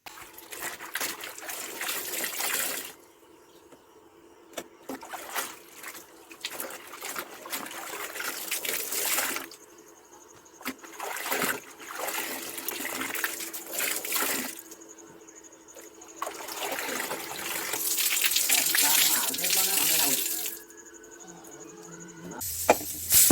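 Clothes washed and wrung by hand in water, with repeated bursts of splashing, trickling and dribbling alternating with quieter pauses, close and fairly loud throughout.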